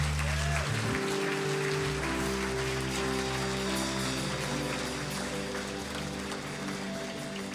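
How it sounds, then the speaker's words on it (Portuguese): Soft, rain-like applause rises from a church congregation during a Portuguese-language worship service, heard fairly quietly over sustained keyboard tones that continue underneath. "Dá o melhor aplauso que você puder a Jesus."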